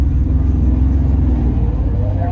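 BMW E30 325 six-cylinder engine pulling in first gear, a steady low rumble heard from inside the car with a voice talking over it.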